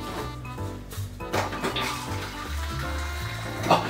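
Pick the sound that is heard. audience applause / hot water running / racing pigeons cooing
hot water running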